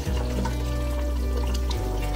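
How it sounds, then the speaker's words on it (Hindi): Roughly half a cup of water poured into a pan of chicken masala with chickpeas, a steady continuous pour with a low liquid rumble, close and alone. "और अब जो है मैंने इसमें डाल दिया है तकरीबन आधा कप पानी डाला है"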